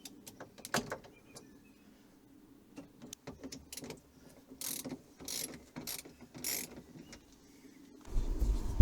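Ratchet clicks in short bursts while the bolts of a campervan door mirror are undone on a 2011 Relay/Boxer/Ducato, with close metallic clatter and pauses between turns, ending in a louder low rumble.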